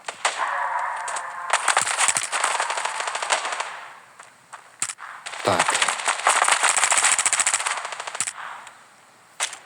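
Rapid bursts of automatic gunfire from a video game, loud and sustained with a brief pause midway, and a voice speaking briefly under it.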